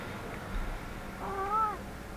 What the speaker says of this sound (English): That was a pretty weak meow.